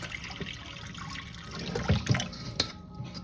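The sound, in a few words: container filling with hot water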